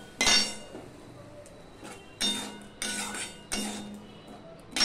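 A metal utensil stirring ground spices with a little water in a cooking pan, four distinct clinking scrapes against the pan, close and moderately loud, with no talk.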